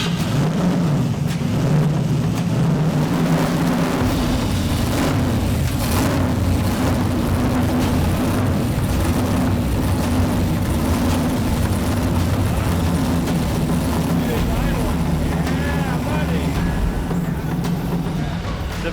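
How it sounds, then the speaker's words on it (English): A drag race car engine runs steadily and loudly for the whole stretch, its deep droning rumble mixed with broadband roar and no pause. "The motor did fire, and it sounded pretty good"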